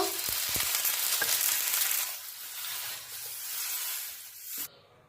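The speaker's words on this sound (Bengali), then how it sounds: "এবারে দোসাটা গরম করে নিয়েছি, একটু তেল আর একটু জল দিয়ে মুছে নেব।" Oil and water wiped across a hot dosa pan, a loud close hiss and crackling sizzle that eases midway, swells again, then cuts off abruptly.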